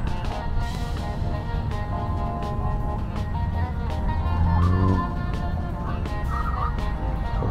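A Porsche runs an autocross course, its engine rumbling steadily and rising in pitch through a strained, warbling rev midway, accompanied by faint tire noise.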